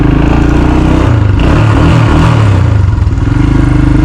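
A Royal Enfield Himalayan fitted with a big bore kit and a full exhaust pipe rides at slow speed, its engine loud and close with a throbbing, rumbling exhaust note and slight clatter.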